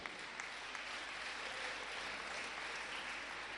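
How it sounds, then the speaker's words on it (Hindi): Audience clapping at a Jain religious gathering, an even, sustained wash of many hands heard from a distance, soft and steady with no voices over it. "आपकी तालियां बहुत कम बज रही हैं।"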